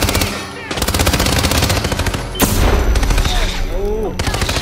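Loud, rapid automatic gunfire from the video game Hitman 2 rattles out in close, repeated bursts with short gaps between volleys, over a constant background of game noise.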